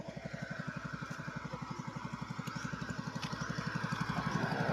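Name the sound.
noisy generator running during power outage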